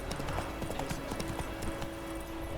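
Horse Roach's hooves clip-clop in a steady, rapid rhythm in The Witcher 3: Wild Hunt, close and clear over a constant ambient game background.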